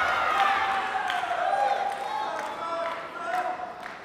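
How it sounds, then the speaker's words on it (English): A Chinese crowd at a taekwondo semifinal between China and Korea raises a loud, sustained roar of cheering and whooping that swells and dips, with a commentator's voice running over it. "China's crowd really cheering for the player"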